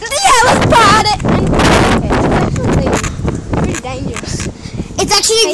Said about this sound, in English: It's actually windy and it's blowing everything.